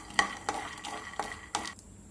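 A handful of peanuts dry-roasting in a hot kadai is stirred with a utensil, producing several sharp scraping clacks at irregular intervals over a soft rustling rattle, close and fairly quiet.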